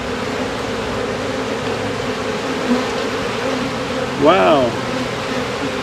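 Honey bees buzzing steadily from an opened beehive frame in December, a close, even hum throughout, with a brief exclamation from a voice near the end.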